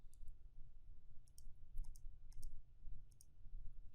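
Mouse clicks on left and right links cycle through images in a Bootstrap web carousel, giving a series of faint, sharp clicks spaced irregularly over a low steady hum.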